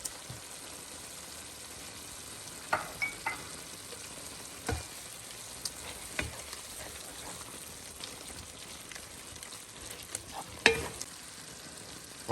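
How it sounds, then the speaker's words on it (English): Garlic and tomato paste fry quietly in a pan, a steady soft sizzle with occasional crackles and the clink of a utensil stirring. "Now I add in my garlic and my tomato paste."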